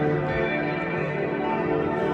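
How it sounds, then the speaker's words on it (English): Church tower bells ring in Luxembourg, a dense continuous wash of overlapping metallic tones and lingering resonance, loud and steady throughout with no voices. "So that tower there, that's currently ringing the bells."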